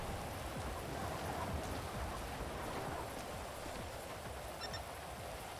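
Steady rain patters continuously on surfaces, a dense even hiss with no other sounds standing out.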